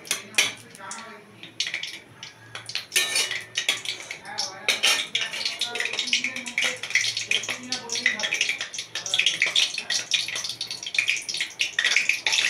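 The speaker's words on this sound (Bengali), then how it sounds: "তারপর একটা তেল গরম হয়ে গেছে, একটা কাঁচা লঙ্কা ফাটিয়ে দিয়ে দিলাম।" Slit green chilli dropped into hot oil for a Bengali white-stemmed greens dish, frying with a steady sputtering crackle and scattered pan and utensil clatter while a voice talks over it.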